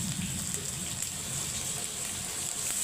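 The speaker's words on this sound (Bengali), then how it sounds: "কষানোর সময় আমি হালকা জল ব্যবহার করব ওই আদা বাটার বাটিটা দিয়ে" Water hits a frying spice mixture of chili powder and ginger paste in a pan for a pointed gourd and prawn curry, making a steady, close, hissing sizzle with no voices.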